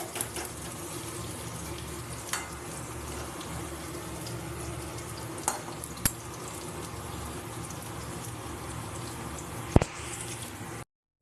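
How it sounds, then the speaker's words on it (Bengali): Whole cumin seeds and halved dried red chillies sizzle in hot oil with a steady crackling hiss and a few sharp pops, and no one speaks. "শুকনো লঙ্কা আর গোটা জিরেটা একটু ভাজা ভাজা হবে"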